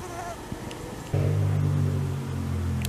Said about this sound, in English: I think it's a Culex mosquito.